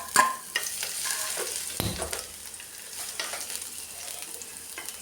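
Ginger and garlic hit hot oil in a pan after mustard seeds have popped, giving a close, steady sizzle with scattered crackles and a few stirring scrapes, no talking.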